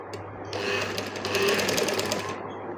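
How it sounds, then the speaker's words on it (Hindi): Close sewing machine stitching over buckram for a trouser waistband, a fast steady whirring burst of about two seconds that starts and stops abruptly against a quiet low hum. "पूरी बुकरम के ऊपर इसी तरह से हमने सिलाई लगानी है"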